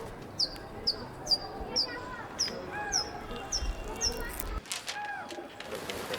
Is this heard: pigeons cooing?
yes